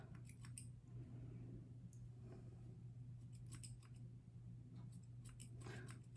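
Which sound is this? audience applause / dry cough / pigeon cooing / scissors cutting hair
scissors cutting hair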